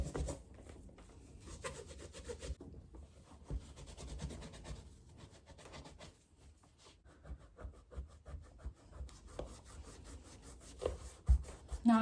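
Canvas shoes are scrubbed to lift dirt, giving a quiet, continuous rubbing and brushing texture with irregular strokes and a few light knocks, nearby and without talk.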